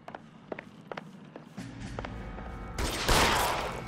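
Gunfire in the video game L.A. Noire: scattered sharp shots and footstep-like taps at first, then a rising roar that swells into a loud, dense burst toward the end.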